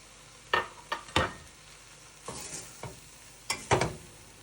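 Gluten-free flour being stirred into softened kale in a hot pan, with several separate scraping strokes of a spoon against the pan over a faint sizzle, close and unaccompanied by talk.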